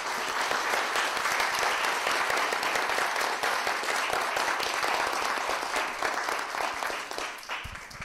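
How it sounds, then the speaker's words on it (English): A conference audience at BYU–Hawaii gives dense, sustained applause that holds steady for about seven seconds before tapering off near the end, with no talk over it. "So let's give a round of applause"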